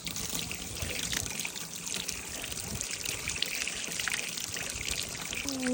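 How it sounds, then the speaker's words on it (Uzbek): Water running from a tap in a village setting, a steady close trickle and splash continuing throughout with no talking. "krandan suv ochib turib"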